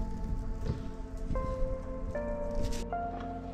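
Paua sizzles in hot oil in a smoking pan, a dense, steady crackle close by, with a few brief tonal clinks over it.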